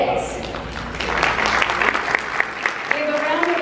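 Audience clapping at a fashion show runway, a dense burst of applause that builds and holds for a few seconds, with a host's voice speaking over it.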